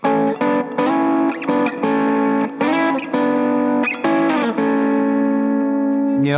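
A distorted electric guitar plays a short phrase of double stops in thirds, each pair struck and held briefly, ending on a sustained, ringing chord.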